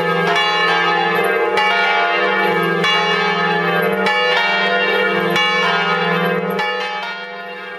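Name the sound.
church bells ringing in full peal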